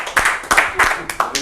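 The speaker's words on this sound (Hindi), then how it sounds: "ये जोरदार तालियां होती।" Audience at a Rajasthan Parishad community event honoring an icon gives a short burst of claps, heard as a few uneven loud bunches of hand claps close by, with a voice woven among them.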